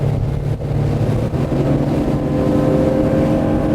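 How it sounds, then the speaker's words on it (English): A Dromeas 28CC motorboat accelerates at full throttle, its engine a loud, steady, close roar with a strong low hum and rising pitch, mixed with rushing water and no talking. "let's put the throttle down and see what kind of speed we get"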